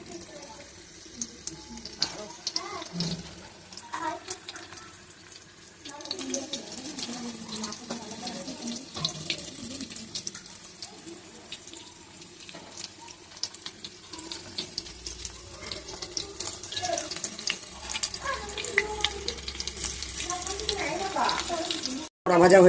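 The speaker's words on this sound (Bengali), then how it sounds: "তেল গরম হয়ে গেছে। এইবার দিয়ে দিচ্ছি এই যে বড়া।" Jukti flower fritters (bora) frying in hot oil make a steady hissing, bubbling sizzle that runs throughout, partly under someone talking.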